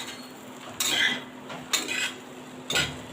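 A spoon scrapes and clinks against a pan while bread poha is mixed, in three distinct strokes about a second apart. The strokes are close and fairly loud over a steady low hum, and no one talks.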